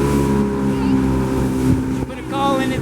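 Motorboat engine droning loud and steady under rising throttle, a dense continuous roar with water wash, and voices talking over it near the end.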